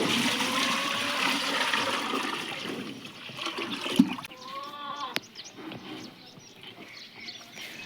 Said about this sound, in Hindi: मैं भैंसों को पानी दे रही थी, इतने में डुगी भी आ गया यहाँ से।